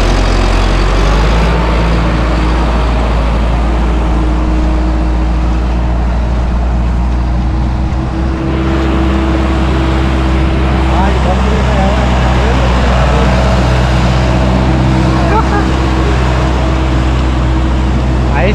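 Sonalika 60 RX tractor puddling a flooded rice field at high speed, its steady low diesel drone running throughout with a dip near the middle, while people talk over it.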